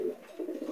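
A racing pigeon cooing in its loft cell: two low, throaty coos close by, the second longer and warbling, with no talk over them.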